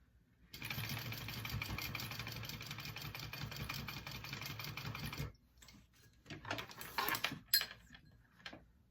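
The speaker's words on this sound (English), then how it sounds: "I'm just gonna do a line of stitching on it there" A sewing machine runs a line of stitching on a fabric shoulder bag, a steady close whirring hum for about five seconds. It then stops and gives way to scattered handling clatter and rustling.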